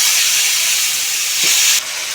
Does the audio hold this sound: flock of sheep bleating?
no